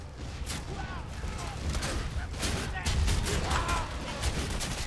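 Gunfire from the Borderlands 2 video game, aimed at fire ants: a dense, continuous clatter of shots and impacts that stays loud throughout, with a voice talking over it.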